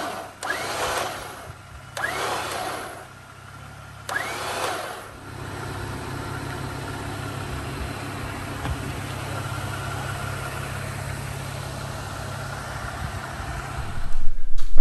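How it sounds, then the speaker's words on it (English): Warn Evo 10S winch on a Jeep Wrangler tensioning new synthetic line. Three short whirring pulls come first, then a long steady mechanical drone with an engine running underneath, fairly loud and close, with no talk. "we're going to go take my Jeep, and we're going to tension his winch line."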